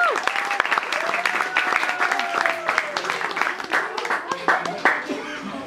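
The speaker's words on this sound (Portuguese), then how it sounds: "uma salva de palmas para eles" Family and guests applaud the couple at an engagement celebration held in a home. The clapping is lively and sustained, and voices and cheers run through it the whole time.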